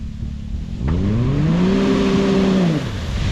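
The engine of a BRP Maverick X3 off-road vehicle in Zakarpattia revs up from idle to a sustained high, rising whine that holds, then drops back, loud and close.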